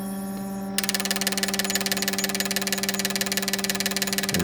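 A fuel injector tester hums steadily, then Bosch Type 3 injectors from a Mercedes M112 or M113 engine burst into loud, rapid, rhythmic hissing spray pulses at idle that continue evenly until stopping at the end.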